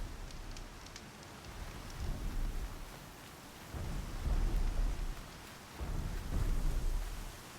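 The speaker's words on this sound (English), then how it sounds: "another freaking dust storm" A dust storm in the video game Horizon Zero Dawn roars as a broad, steady rushing wind with gusty surges rising and falling, no voices over it.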